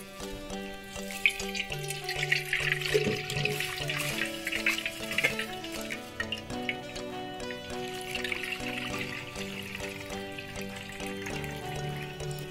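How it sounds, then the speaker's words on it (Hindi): Water is poured over poha flakes in a sieve set in a pot to rinse them, a soft continuous trickle and splash under faint background music. "अब हम इन्हें पानी डालकर धो लेंगे।"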